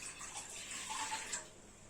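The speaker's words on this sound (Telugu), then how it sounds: "2 గ్లాసెస్ ఆఫ్ వాటర్ పోయాలి" Two glasses of water are poured into a pot on the stove, a soft continuous splashing gush, close and fairly quiet, with no talk over it.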